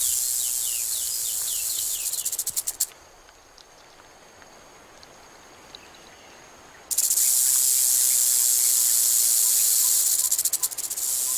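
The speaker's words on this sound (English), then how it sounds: "Rattlesnakes sound a more blatant alarm when people get too close." A rattlesnake shakes its tail in warning, a loud, dense buzzing rattle that runs steadily, stops for several seconds of quiet with faint clicks, then starts again just as loud.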